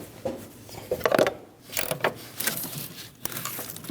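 A ratchet snugs down the rear nut of a front upper control arm on a Dodge Durango, with several short close bursts of rapid clicking separated by brief pauses.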